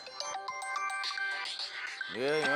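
A phone ringtone plays a bright, repeating electronic melody for an incoming call, loud and close. A voice cuts in over the tune near the end.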